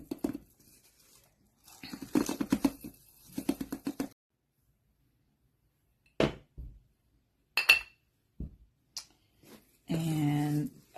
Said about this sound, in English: Now I'm just gonna go ahead and fill each jar with whatever amount of onions